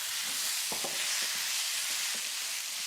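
Ginger, chilli and chopped tomatoes hitting a pan of frying onions, bringing a loud, bright sizzle that hisses steadily throughout with a few soft clatters of the ingredients landing.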